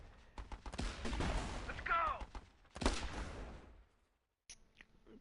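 In the strategy game Battle Islands Commanders, a machine gun nest fires at a medium tank, with rapid bursts of gunfire and impacts crackling through a busy battle mix before it cuts to near silence, then brief sharp blips.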